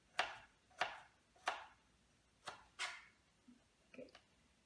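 A knife chops tomatoes and sweet onion for salsa on a board in a quiet kitchen, giving about eight crisp, separate cuts at an uneven pace, close by.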